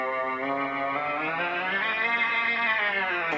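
A single sustained keyboard note played through a guitar amp and preamp, holding a steady, rich harmonic tone for several seconds with slight drifting, close and moderately loud.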